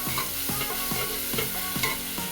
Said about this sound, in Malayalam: നന്നായിട്ടൊന്ന് വഴന്ന് വരട്ടെ ഇഞ്ചിയുടെയും പച്ചമുളകിൻ്റെയൊക്കെ ആ ഒരു പച്ചമണം മാറുന്നത് വരെ നമുക്കൊന്ന് ഇളക്കാം